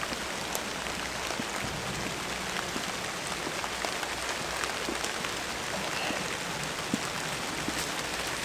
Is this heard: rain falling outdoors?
yes